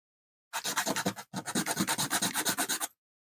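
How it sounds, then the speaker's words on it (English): Rapid, rhythmic scraping strokes of sandpaper rubbed by hand, two quick bursts close up with a short break between them. "I can fix that by sanding it really heavily on that side."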